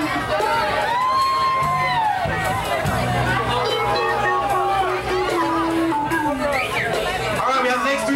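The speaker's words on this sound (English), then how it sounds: "Give him a round of applause." Crowd at a Halloween costume contest cheers, whoops and shouts loudly for a contestant, a dense continuous roar of voices filling the whole span with no clear clapping picked out.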